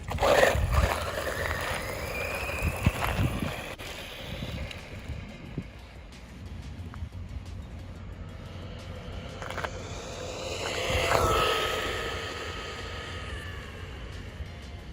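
HBX 16890A 1/16-scale RC car fitted with a King Val 2845 5900kv brushless motor running outdoors: a faint, rising and falling high-pitched motor whine passes through steady wind rumble, with scattered knocks.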